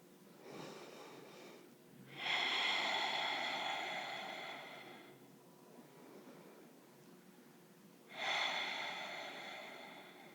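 Slow, deep yoga breaths with a long airy inhale swelling in, then a soft fading exhale, followed by a second full inhale; close and steady, with no talk.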